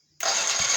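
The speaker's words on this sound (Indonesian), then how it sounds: "dan kita hidupkan" Honda Astrea Grand motorcycle engine cranked by its electric starter after a replacement part, a sudden loud whirring burst cutting in from near silence and holding steady.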